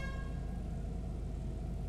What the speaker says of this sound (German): Klassische Hupe.